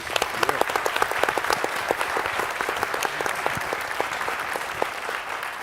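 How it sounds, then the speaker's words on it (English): Audience applause for teachers at a panel discussion with the Exonerated Five, close, crisp individual claps in a lively burst lasting several seconds. "just a round of applause for all the teachers"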